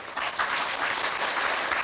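An audience claps at a Buddhist dharma assembly in a temple in Santa Ana, steady dense applause from many hands, close and full, with no voices over it.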